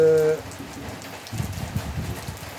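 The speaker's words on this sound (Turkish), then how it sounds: "Bugün yağmur var." Rain patters steadily on a surface, soft and continuous, after a brief tonal sound at the start.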